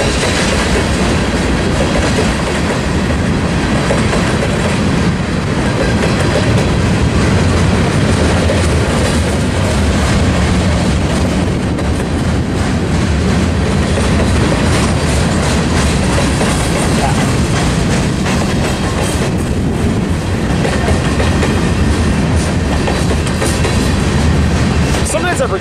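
Long BNSF/UP freight manifest train rolling past at Tehachapi, with a loud, continuous rumble and steady clickety-clack of wheels over rail joints throughout, close by.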